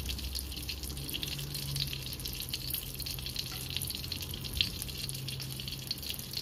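Garlic and shallots sauté in melted butter in a pan, giving a steady, close, moderately quiet sizzle and crackle with no speech.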